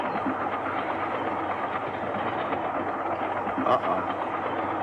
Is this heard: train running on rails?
yes